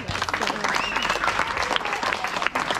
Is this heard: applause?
yes